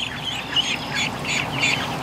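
Muscovy ducks calling on a warm morning, a few soft, raspy calls repeated at an even pace, fairly close over a faint background.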